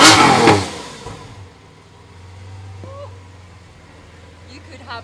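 A supercar engine revs hard in one loud roaring burst, then falls back to a low, steady idle rumble; brief voices are faintly heard near the end.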